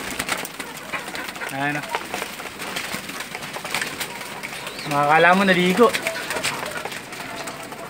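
Rain-soaked pigeons cooing on a rooftop loft after a rainy round, two distinct throaty coo phrases, the second louder and longer, with someone talking nearby.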